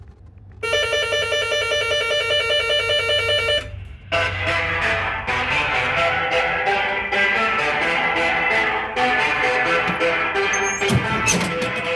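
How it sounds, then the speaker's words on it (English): A battery bumper car ride's start alarm buzzes loudly and steadily for a few seconds, then gives way to continuous loud music with a strong beat. "once we hit the on button, it will set off an alarm"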